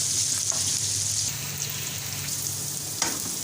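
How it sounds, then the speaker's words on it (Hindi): Sliced onions frying gently in oil in a pan, a continuous bright hiss of sizzling close by with a couple of faint stirring touches. "अब इसके अंदर हम ऐड करेंगे प्याज और इनको हम हल्का सा करेंगे सॉफ्ट"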